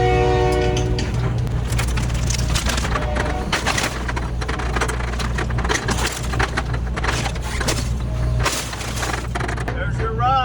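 A train passes close and loud beside a demolition site. Its horn sounds at the start, then heavy rumbling and cracking wood carry on throughout.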